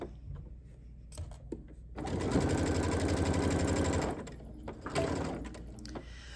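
A sewing machine runs close by, stitching a decorative side-to-side swirl pattern on a quilted bunny pillow cover, with a rapid, even mechanical chatter that lasts about two seconds and is framed by a few quieter clicks and taps.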